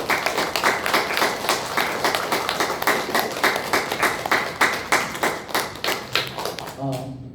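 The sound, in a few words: church congregation applauding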